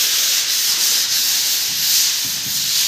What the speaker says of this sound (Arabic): الرجالة شغالة اهي بتصنفر اهيت، اقل صنفرة بتمشي عليه وبتطلعه زي الفل.